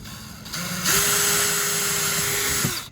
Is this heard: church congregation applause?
no